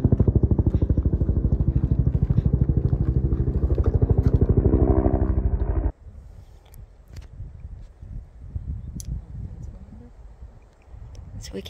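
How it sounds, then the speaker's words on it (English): A helicopter near an Arizona waterfall and cave gives a loud, fast, regular chopping pulse for about six seconds. The pulse then cuts off, leaving quieter outdoor rustling and footsteps. "Sounds like a helicopter rescuing someone."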